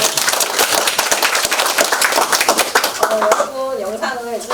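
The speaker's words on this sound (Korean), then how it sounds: "철쌤께 또 큰 박수 보내주세요." Audience at a video media school graduation ceremony claps for the teacher with a sustained burst of close, busy clapping, then speech over the tail as the clapping thins.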